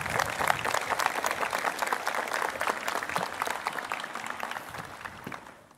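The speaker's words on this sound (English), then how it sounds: "So I'd like to lead a round of applause for Dr. Ching." A crowd at a law school commencement applauds steadily for several seconds, dense clapping that gradually tapers off toward the end.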